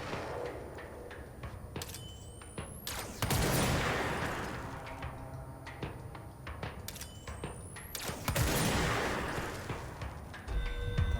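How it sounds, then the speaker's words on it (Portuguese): Sharp gunshots in the video game Control crack out in scattered bursts over a continuous background roar, with several loud booming impacts spaced throughout. "Uns tiros meio aleatórios aí,"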